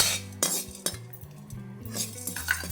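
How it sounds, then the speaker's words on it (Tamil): Black pepper and cumin are dry roasted in a pan, heard as close metallic clinks and scrapes of a spoon stirring against the pan in a steady, irregular rhythm, with no talk. "இந்த மிளகு ஜீரகமும் நமக்கு ஒரு ரெண்டு நிமிஷம் வறுத்தாலே போதும்"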